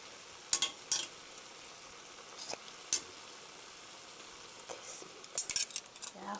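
Kimchi is stir-fried in a pot for kimchi stew, with a soft, faint background sizzle and a few sharp clicks and scrapes of a utensil against the pot. No one speaks.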